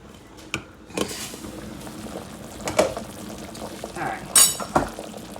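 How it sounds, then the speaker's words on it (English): Haitian salmon fish head bouyon boils steadily in a pot, a low bubbling simmer broken by a few nearby clinks and knocks of utensils. "we're gonna allow it to continue to boil"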